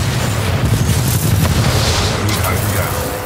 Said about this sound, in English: I keep on pressing the wrong button to reload, but it's like shooting missiles instead